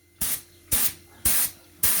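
Aerosol spray paint hissing onto frames being coated black, four short bursts in an even rhythm, each about a third of a second, close and loud with silence between.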